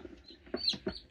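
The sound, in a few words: recently hatched chick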